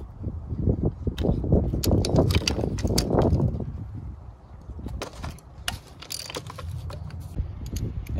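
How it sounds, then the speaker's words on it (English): An 8mm socket ratchets loose intake manifold bolts on a GM Ecotec engine, giving a dense run of small metallic clicks and taps up close, louder at first, then sparser scattered ticks. "I'll be using an 8mm socket to remove these bolts."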